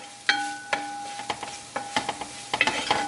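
Onions and garlic fry in a pan with a soft sizzle as a spoon scrapes and stirs in quick, irregular strokes, close and fairly quiet, with a faint steady hum underneath.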